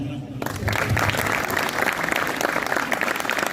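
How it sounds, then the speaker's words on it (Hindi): Crowd applause at the opening ceremony of the Jhelum Cricket League, a dense, steady clapping that swells in after a brief pause and carries on loud, with a voice talking over it. "तालियां।"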